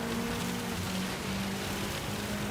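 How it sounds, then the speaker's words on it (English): Rain in the Gran Turismo 7 racing game makes a dense, steady hiss over a low engine hum during a race in a Lancia Delta rally car, continuous and fairly loud. "here comes the rain."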